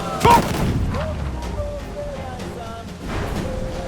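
Ship cannons fire in Assassin's Creed Freedom Cry during a naval fight, one sharp, loud boom near the start followed by rumbling battle noise, with voices shouting over it.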